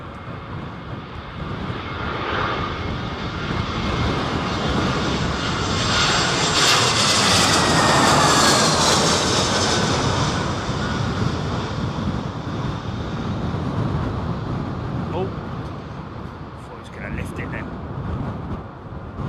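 A plane lands at Heathrow airport as Storm Isha hits the UK: a steady jet roar swells to a loud peak and slowly fades, with gusty wind buffeting the microphone throughout.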